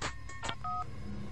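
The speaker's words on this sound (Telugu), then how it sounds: "అది సెల్ ఫోన్ రాగం బావా." A cell phone ringtone in a Telugu comedy film scene: a short series of clear electronic beeping tones, with a sustained two-note chime in the middle, over a low steady background.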